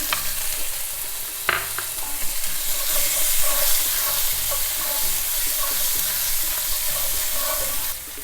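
Soaked raisins and pine nuts sizzle steadily in a hot frying pan for Lenten salt cod, a close, continuous crackling fry with occasional stirring scrapes and no voices.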